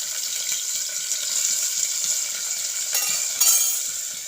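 Chopped large onions sizzle steadily in hot oil inside a pressure cooker, a continuous bright frying hiss with a few stirring scrapes and a brief louder burst near the end, no talking.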